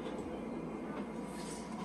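The Incheon airport magnetic train rolls in at its last station, giving a steady, soft rumble and hiss of the carriage, faint and even throughout.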